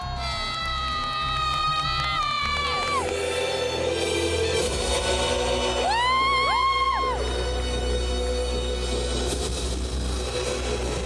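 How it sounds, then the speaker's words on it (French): A crowd at a live wrestling show cheers, whoops and shouts, loud and sustained with excited high-pitched screams rising and falling throughout. "les deux sœurs hurlent et se lèvent de leur siège à la vue de chaque catcheur"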